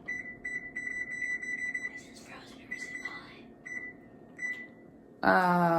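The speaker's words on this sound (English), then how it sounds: "But I am putting the oven on" Kitchen oven being switched on and set for a meal-prep session, giving a string of short, evenly spaced electronic beeps close by, with a louder chime near the end and faint background voices.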